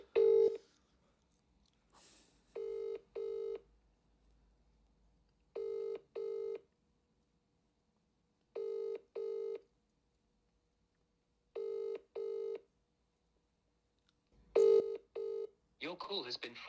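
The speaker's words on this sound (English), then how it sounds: "you see me just typing in numbers on my phone" A phone keypad dialing a number: short, clear touch-tone beeps come in quick pairs, with regular pauses between each pair and little else in a quiet room, plus a brief burst of noise at the very end.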